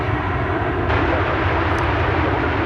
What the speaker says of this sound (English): That Frontier plane with Mitch the Wolverine on the tail